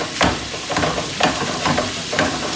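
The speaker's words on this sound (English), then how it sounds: "Let this saute" Steady sizzling of food frying in a pan, with occasional stirring scrapes, close up and continuous without speech.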